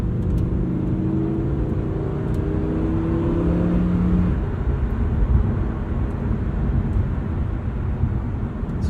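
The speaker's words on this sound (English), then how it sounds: "So what's this like to just drive casually in Strada mode?" A 2023 Lamborghini Huracan Tecnica cruising in Strada mode in regular automatic drive, a steady engine drone with rising tones as it gently accelerates, heard from inside the cabin over constant road noise.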